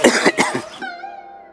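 A sick man in a Hindi family drama coughs in several harsh, close bursts over about a second, then the sound gives way to a lingering tone.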